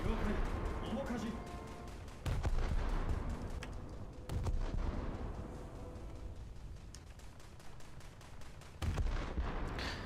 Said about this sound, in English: Come on, 5-inch guns, open up.